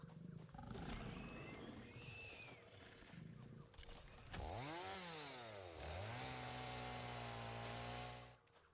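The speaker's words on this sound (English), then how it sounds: "Chainsaw's almost out of gas." Chainsaw in the survival building game Satisfactory, starting about halfway through and running loud and steady, its revving engine note swooping up and down over dense background game noise that fills the opening seconds.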